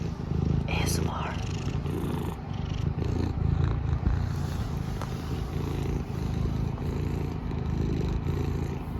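A cat purrs in steady low rhythmic rumbles at an outdoor garden at sunset. It is close and soft, with faint whispery sounds and light handling noises mixed in.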